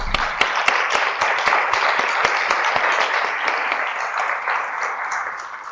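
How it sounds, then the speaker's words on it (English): Steady applause from a public meeting audience for a panel, dense clapping with a few sharp individual claps standing out, sustained for several seconds before tapering slightly. "So let's give our panelists a round of applause."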